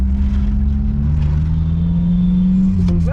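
A car engine hums steadily through a driving lesson, its pitch climbing slightly before dipping at a gear change, with a few faint squeaks near the end.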